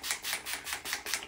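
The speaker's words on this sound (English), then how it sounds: "And I spray it all over my face." Urban Decay All Nighter makeup setting spray misted over a face in six quick, evenly spaced bursts, each a soft close hiss with brief gaps between.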